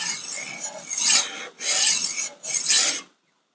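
Knife blade stroked against the abrasive stones of a Wicked Edge Go sharpener to take off the burr: three close, loud rasping strokes, each about half a second long with short pauses between them, then silence.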